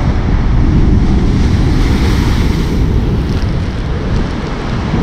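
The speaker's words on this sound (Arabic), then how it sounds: "شوف هاد الموجة دابا يهرسو كي غيدير." Sea waves crash against a rocky shore, making a loud, continuous roar of churning surf and strong wind buffeting the microphone, steady throughout with no break and no voices.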